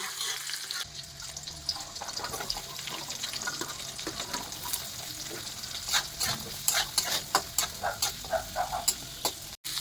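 Mixed vegetables and green chillies fry gently in oil, a soft steady sizzle with frequent clattering stirs against the pan that grow busier toward the end, close up and without talk.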